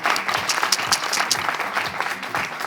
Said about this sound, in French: J'aimerais qu'on vous les applaudisse encore une fois, s'il vous plaît.